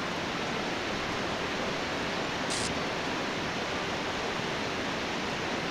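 A waterfall in the video game The Talos Principle rushes in a dense, unbroken roar that fills the whole stretch, steady and close with no voices.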